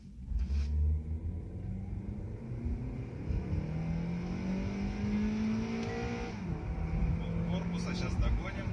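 Stock Honda Accord 8 with the 2.4 engine accelerating hard in a race against a chipped Accord, a sustained rumbling engine note that climbs in pitch with gear changes, heard from inside the car alongside talking.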